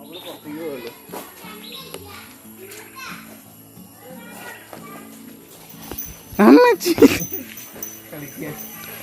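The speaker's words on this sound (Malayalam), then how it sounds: "സൗകര്യമുള്ള നായ." Dogs play together, letting out yips and whimpers amid children's voices and chatter, with a louder burst of yelping near the end.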